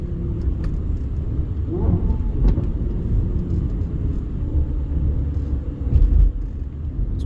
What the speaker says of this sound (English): Pretty heavy traffic out here.